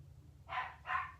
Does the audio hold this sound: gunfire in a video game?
no